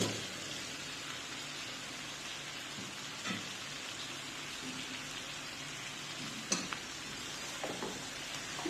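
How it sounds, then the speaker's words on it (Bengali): Shrimp cooking in a pan with bottle gourd, tomato and green chili being stirred, giving a soft continuous sizzle with occasional scraping clinks of the spatula, fairly faint and steady. "আবার ভালোভাবে নেড়ে দেব।"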